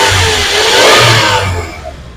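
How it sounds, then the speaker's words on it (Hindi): A Toyota Land Cruiser Prado TX 3.0L engine runs close up, a steady loud hum with gentle swells in revs, no talking over it. "अब इसकी इंजन की नॉइस कितनी आती है वो देखते हैं।"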